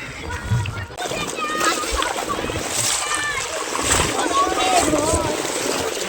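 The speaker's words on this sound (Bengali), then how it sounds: "এই যে জল পেরিয়ে পেরিয়ে হেঁটে হেঁটে যাচ্ছি" Feet slosh and splash through shallow water running over sand near a beach, steady wading under a windy outdoor backdrop with voices talking nearby.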